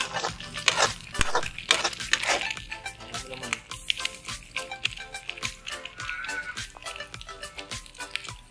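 Egg frying in a pan for fried rice at an outdoor cooking spot, a busy crackling sizzle with scraping and stirring clicks, loud and close, fading slightly toward the end.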